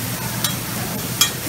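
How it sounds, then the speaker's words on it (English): Steak sizzling on a Mongolian barbecue grill at a holiday lunch buffet, a steady close hiss of frying with a couple of sharp spatula clacks and no talk. "Gotta love that sound, that sizzling sound."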